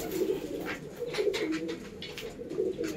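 A pair of Doyaj (Kalanka) breeding pigeons, male and female, coo in soft repeated low throaty phrases, close by and steady over faint background noise, with no talking.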